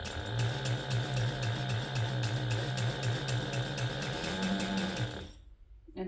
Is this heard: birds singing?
no